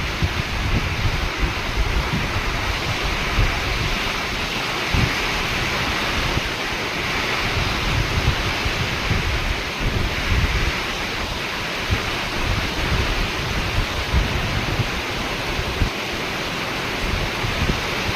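Heavy rain lashes down with strong wind on a stormy day among coconut palms, a dense, steady roar of falling water and gusts that holds loud and unbroken throughout, with no voices.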